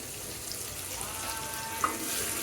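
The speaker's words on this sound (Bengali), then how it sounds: "ডিমগুলোকে বেজে নিলাম" Boiled duck eggs fry in a pan with turmeric powder, giving a steady, soft sizzle that holds evenly throughout, with no voices over it.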